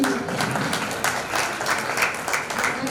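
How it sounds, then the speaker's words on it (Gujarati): Audience applause at a Janmashtami celebration held by a women's association in Jamnagar, a dense, steady clapping from a crowd that fills the whole moment without a break. "એકવાર તાળીઓથી"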